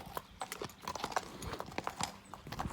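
Horse hooves clip-clop steadily in an irregular walking rhythm, close and moderately loud, while a second horse is present during a horsemanship session with a six-year-old horse.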